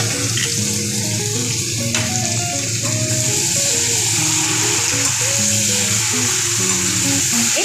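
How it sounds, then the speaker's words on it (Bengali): Mutton with spices is sautéed in a pan, producing a continuous close sizzle and fry with faint scraping of stirring throughout, with no talking. "মাংসতে আমার সব মশলা দেওয়া হয়ে গেছে এখানে আর কোনো মশলা লবণ এক্সট্রা কিচ্ছু দিতে হবে না এবার ভালো করে এটাকে কষাতে হবে"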